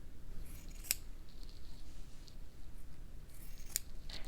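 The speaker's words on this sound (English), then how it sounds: "So now I want to trim off those ends." Scissors snip thread ends off a stitched fabric tag, two crisp, quick cuts a few seconds apart, close and quiet against faint room noise.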